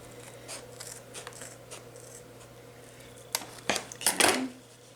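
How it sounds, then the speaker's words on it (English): Scissors trim the stem off a felt Christmas tree: a few soft snips and rustles, then louder close clipping sounds near the end over a faint steady hum. "I'm going to trim the stem all the way off."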